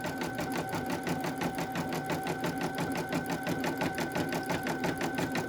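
An embroidery machine stitches a baby bodysuit with a fast, even mechanical chatter, close and steady throughout with no talk over it.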